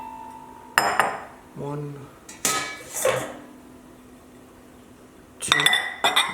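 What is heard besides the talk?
setting out two medium bowls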